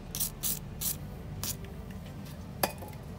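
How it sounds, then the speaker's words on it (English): Several short hissing bursts of WD-40 aerosol lubricant spray on threads, evenly spaced at first, then a pause and one final quick spritz, heard close up. "spray it down again"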